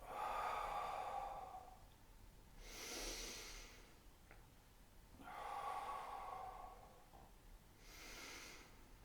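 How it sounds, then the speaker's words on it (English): Slow, deep breaths in and out during a guided upper-body exercise, close and soft, with long airy inhales and exhales alternating at an unhurried pace, about four breaths in all, with no talking. "bring your breath up from the stomach, breathing in, completely up towards your shoulders, okay? Like this, out."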